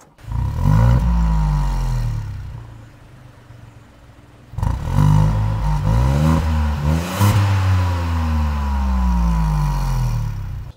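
A 2024 Tata Altroz Racer R2 cranks and fires up, then revs hard twice with a short dip between, the engine roaring loud and close with a rising and falling pitch and no talk.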